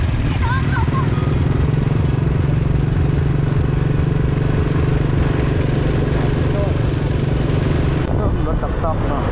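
A two-wheel walking tractor engine on a rural road in Khammouane Province, Laos, gives a steady, loud low-pitched thumping putter throughout, with talk over it.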